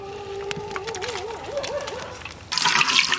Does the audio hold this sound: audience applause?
no